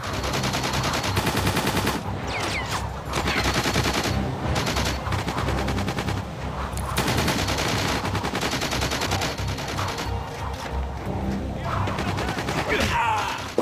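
Battle gunfire in the GoldenEye Reloaded video game: dense machine-gun bursts and rapid shots rattle almost nonstop for over thirteen seconds, loud and close, with brief lulls between volleys.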